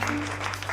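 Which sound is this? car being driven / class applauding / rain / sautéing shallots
class applauding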